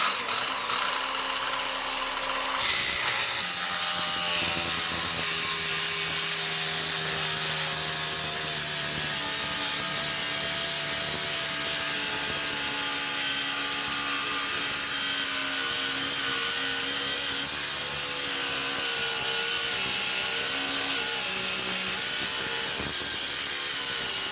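A Parkside PTS 20-Li A1 cordless plunge saw spins up and cuts steadily through a workpiece at a set depth, a loud continuous whining buzz that holds at an even level for over twenty seconds after a brief quieter start.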